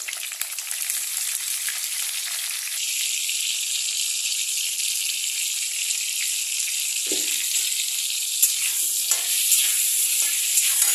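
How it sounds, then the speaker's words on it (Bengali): Potatoes fry with turmeric and salt in a hot pan, making a loud, steady close-up sizzle that swells as the heat rises, with occasional stirring scrapes and clicks. "গ্যাসটাকে বাড়িয়ে আলুগুলোকে ফ্রাই করে নেব।"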